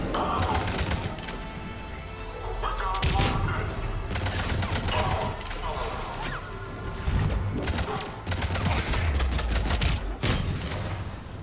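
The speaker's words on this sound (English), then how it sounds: "That's a grenade." Heavy combat in the Mass Effect 3 video game, with a loud grenade blast amid dense rapid gunfire and crashing debris, continuous and close throughout.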